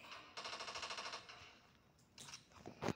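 Rapid automatic gunfire from a video game, a burst of evenly spaced shots followed by a few sharper bangs, loud and with no talking over it.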